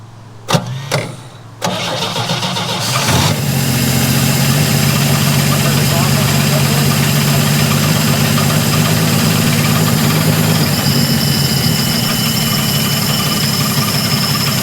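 A vintage GMC C30 dump truck left sitting for 30 years cranks with a few sharp turnover bursts, then catches and settles into a loud, steady, close idle rumble that continues alone.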